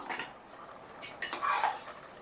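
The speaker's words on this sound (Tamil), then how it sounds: "நம்ம ஒரு கிண்டு கிண்டிட்டு குக்கர் மூடியை போட்டு விட்டுறலாம்" Metallic clinks and a clatter as a pressure cooker lid is set on a pot of jeera peas pulao, a few light knocks followed by a brighter scraping clank, close and alone.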